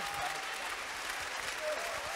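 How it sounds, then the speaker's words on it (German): Dense applause from an arena crowd at a handball match in the SAP Arena following a marriage proposal, a continuous wash of clapping with a voice faintly over it. "So, großer Applaus"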